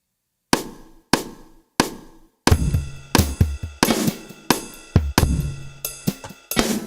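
A punchy drum loop plays: three sparse hits, then a steady groove of kicks, snares and ringing cymbals, loud and close.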